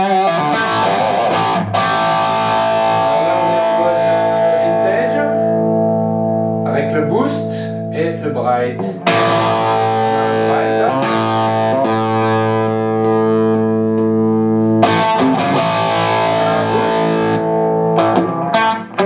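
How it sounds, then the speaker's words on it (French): Electric guitar through a custom dual-channel 6V6 valve amplifier's classic overdrive channel plays thick, distorted sustained chords and riffs. The tone is loud and continuous, with a few short pauses between phrases. "Alors on a le canal saturé classique de type la bleu."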